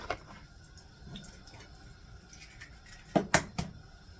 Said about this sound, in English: Now we're going to crack our 6 eggs into our pan.